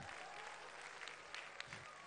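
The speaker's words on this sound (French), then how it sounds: "Mali, applaudissez pour vous." A crowd at a live show in Mali claps steadily, a dense wash of applause throughout the short stretch, heard a little distant and even.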